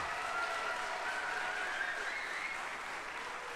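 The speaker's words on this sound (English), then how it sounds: "give them a round of applause for all the hard work that they've put on" Audience applause at a school spring concert for a 5th grade select chorus, a steady wash of clapping held at an even level throughout, with no talk over it.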